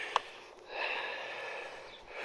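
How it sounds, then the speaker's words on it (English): A dog sniffing outdoors on a walk in high winds, with a quick nasal snuffle near the start and softer sniffing under steady, rushing wind noise. "She's sniffing for it."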